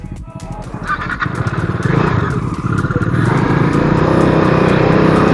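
A motorcycle engine idles and then revs up as it sets off on a road trip from Howrah to Bankura, its close, rising rumble steadying into a continuous drone.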